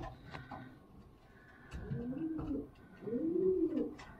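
A racing pigeon coos twice, low and soft, close by in a quiet space, each coo a rolling, throaty call lasting under a second.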